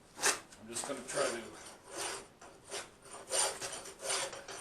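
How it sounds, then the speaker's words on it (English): A big square file deburring the inside of 1-inch square steel tubing, with repeated rhythmic rasping strokes, about six or seven in steady succession, close and fairly quiet. "So I got a big square file."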